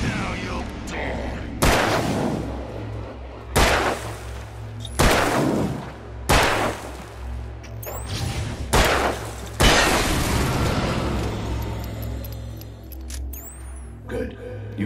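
Gunshots in the video game Alan Wake: seven loud, booming shots fired at uneven intervals, each trailing off in a reverberant decay before a quieter, echoing stretch at the end.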